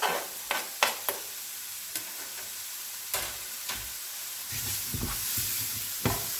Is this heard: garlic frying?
yes